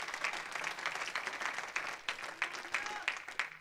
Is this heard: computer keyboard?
no